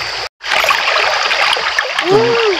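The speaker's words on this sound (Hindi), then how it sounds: "इस जगह देख सकते हैं पानी कितना अच्छा बह रहा है।" River water flows in a steady, continuous rush close by, with a brief dropout early on and a short burst of voice near the end.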